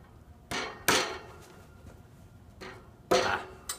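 A hammer taps parts into an AV 96 tower assembly: four sharp, close knocks at uneven intervals against a quiet background.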